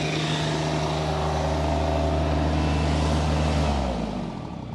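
An engine runs steadily at about 2100 to 2400 RPM, giving a constant, even drone with a strong low hum. The sound holds for about four seconds, then the pitch drops as it winds down.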